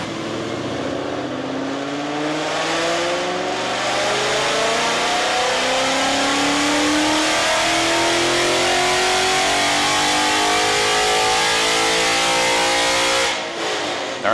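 A 2015 Mustang GT V8 with long tube headers makes a full pull on a dyno, the engine climbing steadily through the gears with a loud, raspy rising roar for about thirteen seconds before backing off, no talking.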